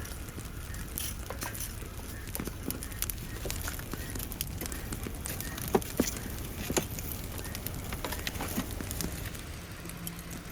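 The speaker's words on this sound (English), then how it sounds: "Long logs fit perfectly, and the fire's crackling in no time." A wood fire of long logs, lit with a torch for roasting a whole bull on a steel spit outdoors, crackles and pops with scattered sharp snaps over a soft, steady bed of noise.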